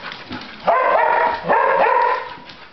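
A dog at a house gives two drawn-out, whining calls a moment apart, close and fairly loud, with softer yips before them.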